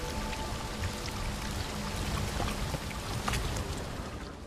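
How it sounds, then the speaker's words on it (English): A waterfall flowing upwards in The Witcher 3: Wild Hunt, Blood and Wine, heard as a steady, dense rush of churning water that holds at an even level throughout, with no voices. "A waterfall flowing upwards?"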